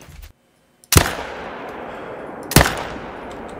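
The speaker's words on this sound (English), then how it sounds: "I'm just gonna shoot him" Two sharp, loud hunting rifle shots are fired at a whitetail deer in the hunting game Call of the Wild, each with a long echoing tail, about 1.6 seconds apart.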